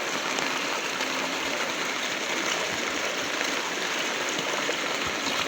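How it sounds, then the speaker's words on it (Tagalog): Strong current of a creek swollen by heavy rain rushes past in a steady, loud, close wash of water that fills the whole clip, with no voices. "Parang sapa lang. Lakas ng agos."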